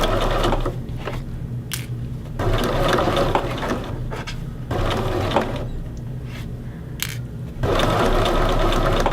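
A home sewing machine runs in steady bursts as it stitches shirt fabric across pinned pleats on a men's shirt back seam, with short pauses between runs and a continuous mechanical whir during each stretch.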